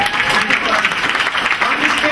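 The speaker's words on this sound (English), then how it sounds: "That you can clap" Audience at an induction ceremony breaks into steady applause, a dense, continuous patter of many hands clapping with a faint voice underneath.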